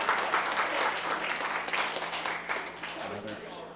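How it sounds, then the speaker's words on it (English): Applause sounds during a boxing match, with a run of rapid claps and crowd noise mixed under an announcer's commentary, fading slightly toward the end. "Another sarcastic clap."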